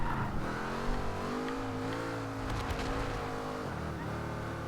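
Loud, continuous engine note of a 2010 Noble M600 in Forza Horizon 2 on Xbox One, rising and falling as the car accelerates, brakes and revs again, with a brief scrubbing burst midway.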